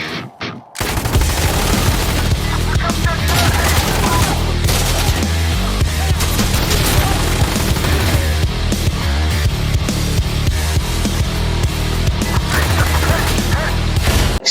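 Loud, dense gunfire fills an Insurgency Sandstorm match, with rapid automatic bursts, heavy shotgun blasts and booming impacts crowding together almost without pause.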